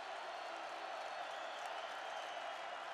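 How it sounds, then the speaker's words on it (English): A football stadium crowd at an NDSU versus Northern Iowa game swells into a steady, distant roar of cheering that holds evenly throughout. "Crowd coming to life."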